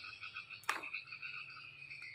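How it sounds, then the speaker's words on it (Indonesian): Frog croaking outdoors with steady layered calls and a sharp close click partway through, no talk. "Kodok."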